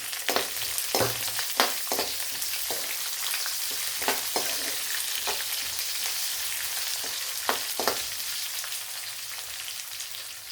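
Green chilies and onion fry in hot oil for mango rice, a loud continuous sizzle broken by repeated sharp scrapes and taps of stirring.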